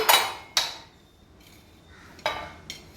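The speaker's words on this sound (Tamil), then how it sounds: "குக்கரை இப்போ ஓப்பன் பண்ணலாம்" The metal lid of a pressure cooker with goat trotter soup inside is opened in a quiet kitchen, giving a few separate clanks and clinks, close and crisp, with faint ringing between them.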